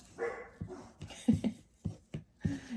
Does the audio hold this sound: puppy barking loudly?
yes